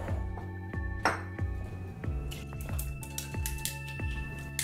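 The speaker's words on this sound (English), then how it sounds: "All right, we have one big, few little ice cubes going in." Ice cubes drop into a cocktail shaker, one big cube and several small ones, giving a quick series of bright, close clinks and rattles with ringing metallic tones.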